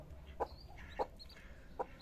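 Three short, soft clucks from a chicken spaced about half a second apart, quiet and fairly close, over a low background hum; a rooster and a tiger-breed chick nearby.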